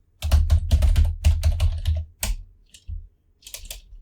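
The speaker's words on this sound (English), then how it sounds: "But I'm just going to type it in." Fast typing on a computer keyboard, close and fairly loud, with dense bursts of keystrokes, a short pause, then a few more scattered taps.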